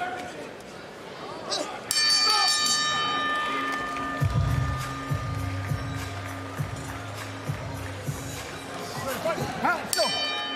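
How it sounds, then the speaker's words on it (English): At a Bellator MMA bout, a ringing bell signals the start of round three. Its sustained metallic tone rings out over crowd noise and ongoing commentary, with thumps and shuffling from the fighters. "Bell, round number 3."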